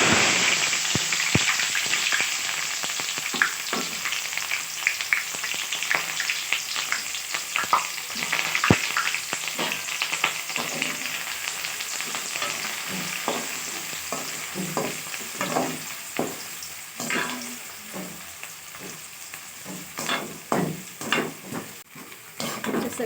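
Onions frying in a pan with mustard seeds and fenugreek, loud continuous sizzling with scraping stirs and occasional spatula knocks against the pan, growing more crackly toward the end.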